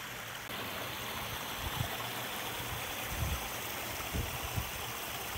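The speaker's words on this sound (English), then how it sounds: "you have to cross this creek when you come in." A creek runs across the main park road at J.P. Coleman State Park in Mississippi, giving a steady close rush of flowing water with a few low splashes and no talk.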